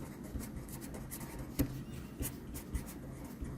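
Handwriting on a board or paper while working a matrix problem, a close run of scratchy strokes with short pauses and light taps between marks, alone and quiet.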